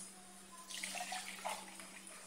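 Fresh farm milk pours from a carton into a pan, a soft liquid splash lasting about a second and a half, faint against a quiet kitchen hum with no talk.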